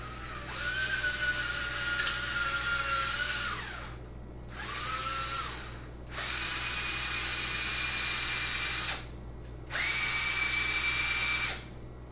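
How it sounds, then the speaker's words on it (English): A drill bores out the air restrictor inside a Nerf Elite Rampage blaster in four separate high-pitched whining bursts, each a couple of seconds long with short pauses between, close and fairly loud over a low hum. "So I'm going to drill that part out"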